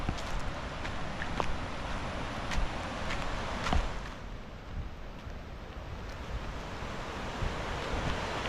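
A river flows outdoors at a campsite, giving a continuous broadband rush of water mixed with gusty wind noise, fairly faint and steady, with a couple of brief louder swells.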